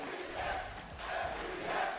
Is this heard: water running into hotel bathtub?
no